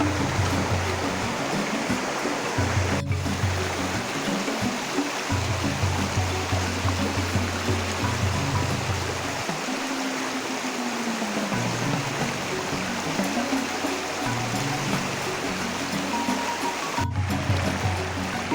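A river rushes over very large rocks, a steady, loud, broadband roar of flowing water that continues unbroken and close by, with a few brief knocks and low thumps.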